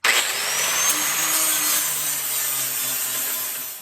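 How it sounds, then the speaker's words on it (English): A 60 grit flap disc on an angle grinder smooths weld beads on the driver's side of a 1974 Ford Bronco, a continuous close, harsh abrasive whine lasting several seconds. "Just finished welding up the holes on the driver's side, and I'm hitting them with my 60 grit flap disc"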